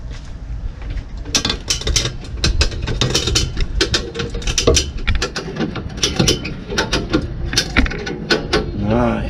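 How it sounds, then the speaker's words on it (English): A small dent puller with interchangeable attachments works a damaged body panel on a wrecked 2006 Cadillac STS, giving rapid ratcheting clicks and sharp metallic snaps in irregular bursts, loud and close. "I used a new tool that my wife got me, a little like dent puller with different attachments."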